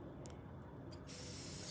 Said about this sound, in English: we're just gonna go ahead and do a spray